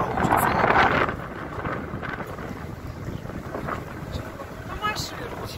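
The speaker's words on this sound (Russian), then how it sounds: "ветер безумно сильный здесь" Very strong wind roars across the microphone on a boat trip on Lake Baikal near Olkhon, a loud steady buffeting with engine and water wash beneath and brief bursts of a voice.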